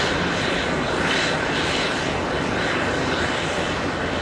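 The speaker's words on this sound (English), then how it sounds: "American 2423 flying in from Dallas, Fort Worth. 3 hours of flight time, a 737-800." Boeing 737-800 jet airliner arriving at JFK airport in New York, a loud, constant whooshing engine roar that stays close and even from start to finish, with no speech over it.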